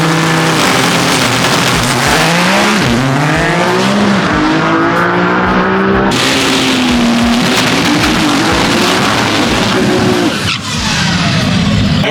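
Loud Nissan GT-R cars at the TX2K drag event, engines revving and rising in pitch with tire squeal and skidding, harsh and close, running continuously for several seconds.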